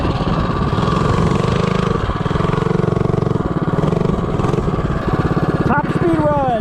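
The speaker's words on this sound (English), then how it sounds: "Top speed run, ARC flywheel, 212 Ghost." A 212 Ghost small engine fitted with an ARC flywheel on a top speed run, buzzing loud and steady at high revs throughout, close up with a faint squeal near the end.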